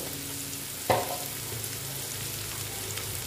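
Ground coriander and chili powder fry in a pan, making a steady close sizzle with one sharp clatter of stirring near the start and no talking.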